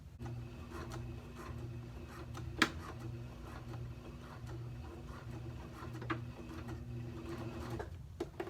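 A sewing machine stitches straight across the original seam line at the waist of a man's trousers, a steady low mechanical hum running evenly throughout with faint rubbing and one sharp click partway through.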